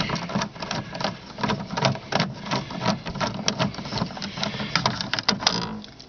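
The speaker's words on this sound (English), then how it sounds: "You'll see two 10mm bolts there. I'm going to take those out." Two 10mm bolts are unscrewed from a Ford Escort's brake light cover, making a dense, continuous run of quick metallic clicks and rattles close by for several seconds, with no one speaking.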